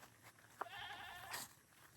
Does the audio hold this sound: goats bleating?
yes